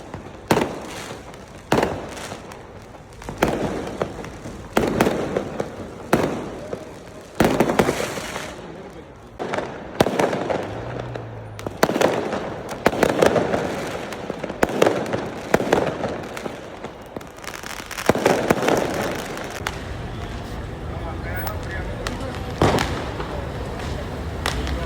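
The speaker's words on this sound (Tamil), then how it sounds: "அங்கே இருக்க எம்டி ஏரியா, பார்க்கிங் எல்லாத்துலேயுமே நிறைய பட்டாசு வெடித்தாங்க." Firecrackers and fireworks burst repeatedly during a Diwali night in Dubai's parking and residential areas, with sharp cracks and booms arriving in irregular clusters over constant crowd noise and some voices.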